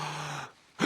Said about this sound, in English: Oh, I don't like the sound of that breathing.